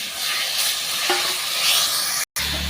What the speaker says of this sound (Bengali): দেখুন মশলাটা আমি ভালো করে কষে নেব, যতক্ষণ না তেল ছাড়বে ততক্ষণ মশলাটা আমি কষতে থাকবো